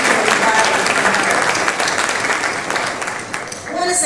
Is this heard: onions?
no